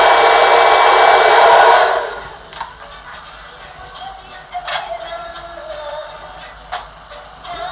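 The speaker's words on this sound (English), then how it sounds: "Going in with the blow dryer again" A loud, steady blow dryer roars for about two seconds while drying a closure wig, then cuts off, leaving quiet shuffling and a few soft clicks.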